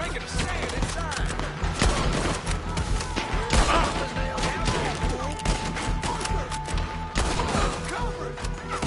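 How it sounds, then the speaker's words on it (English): Heavy gunfire in a Red Dead Redemption 2 shootout. Many overlapping shots crack and thump continuously, close and loud, with shouting voices mixed throughout the chaotic firefight. "Just keep shooting!"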